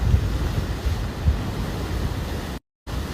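Ocean surf crashing and spraying water along a Miami shoreline, a steady close roar of breaking waves with wind buffeting the microphone and a brief dropout near the end.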